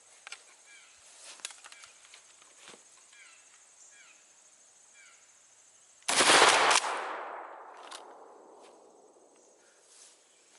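A KSG 12 shotgun fires a single 00 buck round through a choke at 7 yards, one loud sharp blast that rings out and decays, with crickets chirping and faint outdoor ambience before it.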